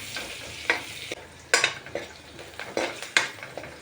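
Onion, bay leaves and chilies fry in a pan, a continuous sizzle broken by sharp scrapes and clinks of a spatula stirring against the metal at an uneven, repeated rhythm.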